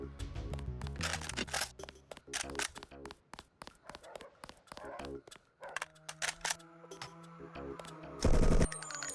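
An assault rifle fires in the 2000 video game Deus Ex, rapid bursts of sharp, clipped shots in quick succession with gaps between volleys, while someone talks over the gunfire.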